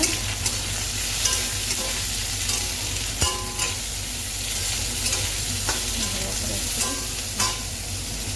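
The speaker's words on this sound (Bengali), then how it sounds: "নাড়িয়ে নিই এবার ভালো করে নাড়িয়ে" Ridge gourd is stirred in a frying pan over a steady sizzle, with repeated spatula scrapes and knocks against the pan, close and continuous, with no voices.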